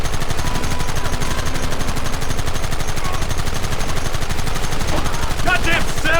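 Rapid, dense gunfire in a Red Dead Redemption firefight, with sustained bursts of rifle and machine-gun shots crackling nonstop and loud throughout, plus shouting voices underneath.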